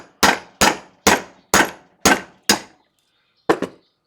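Jason's Works auto punch striking a coin to punch out a half-inch plug: six sharp metallic clanks in an even rhythm about half a second apart, a pause, then a quick double strike, loud and close with no talk.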